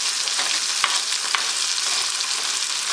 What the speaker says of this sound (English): So I'm just gonna cook the sauce today.